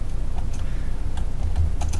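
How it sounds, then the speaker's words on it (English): Typing on a computer keyboard while editing a WordPress site footer: steady, close clicking keystrokes run throughout, with a low hum underneath and no talking. "I'm just going to start typing."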